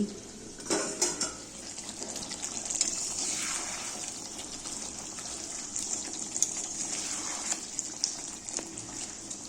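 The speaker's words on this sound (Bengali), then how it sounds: "পরিমাণ মতন তরকারির জন্য জল দিয়ে দিচ্ছি" Water gushes steadily into a pan of fish curry with fried cauliflower, a continuous pouring rush with faint metallic clinks of the pan and utensils, fairly close and without talk.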